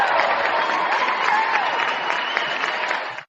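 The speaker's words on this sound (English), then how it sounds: "Give yourself a round of applause." Steady, dense applause runs evenly for a few seconds and then cuts off abruptly, with no voices over it.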